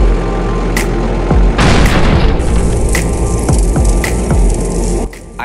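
Fuel truck exploding in a video game: a heavy boom swells at about a second and a half and stays loud as a roaring, crackling burn, with sharp cracks and thuds popping at intervals through the fire.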